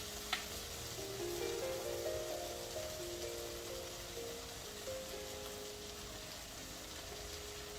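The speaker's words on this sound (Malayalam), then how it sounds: "കുറച്ച് സോയാ സോസ് കൂടെയാണ് ഒഴിക്കുകയാണ്" Soy sauce goes into a pan of sizzling Mexican chicken fried rice cooking in olive oil, with a steady close crackle and hiss and a few faint tonal sounds in the background.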